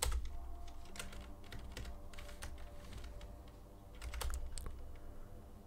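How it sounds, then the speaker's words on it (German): Computer keyboard typing, a run of irregular clicky key presses with short pauses, close and moderately quiet, no voices. "Tastatur."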